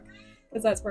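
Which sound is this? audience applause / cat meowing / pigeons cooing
cat meowing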